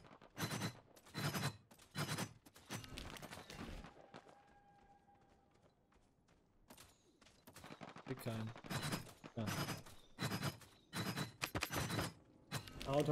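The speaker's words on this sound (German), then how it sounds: "Okay, aus dem Dorf Schüsse." Gunshots from a village in the video game Realm Royale, rapid bursts of sharp gunfire in clusters separated by a quieter stretch, fairly distant and moderately loud.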